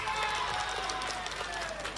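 Audience applause at a live impersonation show in Hakodate, a steady mid-level wash of clapping from a crowd voting for a song, with a faint tone running underneath.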